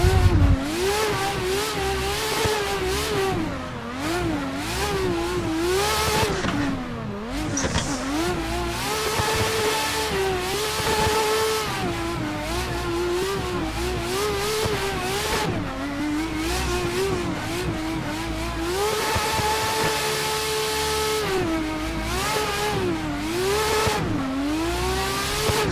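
A Nissan S15 drift car's engine revs in a driving simulator, rising and falling continuously through throttle blips and shifts at a loud, steady level. Tire noise runs underneath, and no one speaks.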